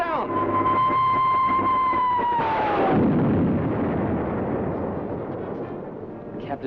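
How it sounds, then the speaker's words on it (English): A rocket in a 1951 sci-fi serial explodes in midair: a sustained whining tone descends, then a broad, rumbling blast swells and slowly fades over several seconds. "Captain Video exploded that rocket in midair."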